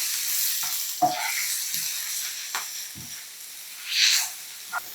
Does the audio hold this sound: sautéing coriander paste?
yes